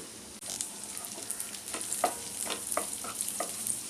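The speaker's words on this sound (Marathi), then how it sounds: "याला चांगलं अर्धा मिनिट आपण आता परतून घेऊया।" Ginger, garlic and chilli sauté in a pan for noodles, giving a soft sizzle broken by quick rhythmic spatula scrapes and stirring strokes, fairly quiet and close, with no speech.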